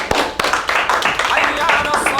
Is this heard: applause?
yes